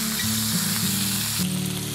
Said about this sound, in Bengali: ওই যে শাস্ত্রিক ঠিক গরম তেলে এখন দিয়ে দিলাম।